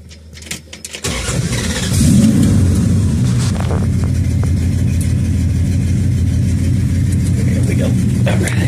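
A 1967 Dodge Dart GT convertible with the high-performance 273 V8 and aftermarket mufflers cranks briefly, fires up and settles into a loud, lumpy rumbling idle with blips of revving, close by, with someone talking near the start.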